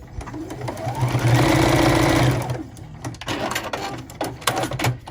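A sewing machine stitches quarter-inch-spaced quilting lines across a scrappy quilt-as-you-go log cabin block. It runs in one steady burst of about two seconds, then stops, leaving light handling clicks and taps.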